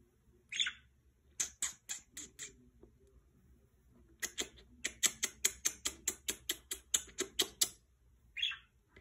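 A pet parakeet-type bird vocalizes, giving two brief high squawks and long runs of rapid sharp chirps and clicks, close and fairly loud in a quiet room.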